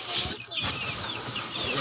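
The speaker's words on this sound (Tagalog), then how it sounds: "Ito na mga alagang Tweety sisiw." Hungry young chicks peeping and cheeping in a pen, a busy chorus of thin calls close by with some faint background noise.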